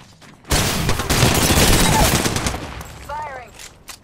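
Sustained rapid gunfire in a video game, a loud close burst that starts abruptly and rolls on for several seconds before fading, followed by brief game voice callouts.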